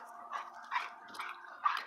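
An Anatolian Shepherd and a puppy play together, giving a string of soft, fairly faint yips and small barks spaced in short bursts.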